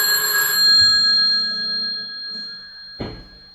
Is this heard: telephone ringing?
yes